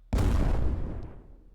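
A grenade explodes in the adventure game Potentia: one sudden loud boom with a rumbling tail that fades away over about a second.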